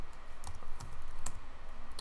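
A few light keystrokes sound on a computer keyboard during CAD work in SOLIDWORKS, faint clicks spaced irregularly over a steady low background hum.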